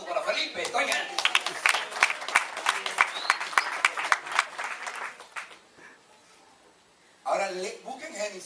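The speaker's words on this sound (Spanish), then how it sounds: "Un aplauso para Felipe" Applause breaks out for Felipe at a Spanish-language church Bible lesson, a burst of clapping from the gathering that fades out, then a voice resumes speaking.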